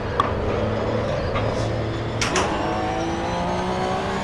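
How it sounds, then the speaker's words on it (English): A race car engine in the Assetto Corsa Evo racing sim holds a steady droning note, with quick pitch drops at the gear shifts and a short sharp burst midway, heard alone without talk. "Watch these gear shifts."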